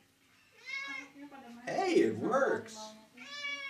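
A cat meows repeatedly in short, clear calls at the start and end, with a person speaking excitedly in between.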